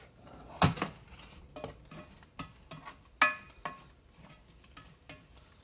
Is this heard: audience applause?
no